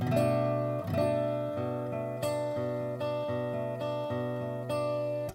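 An acoustic guitar chord of three notes is strummed repeatedly at a relaxed, even pace, ringing clearly between strums with no voices.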